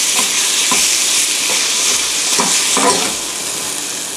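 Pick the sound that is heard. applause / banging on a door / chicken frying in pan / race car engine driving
chicken frying in pan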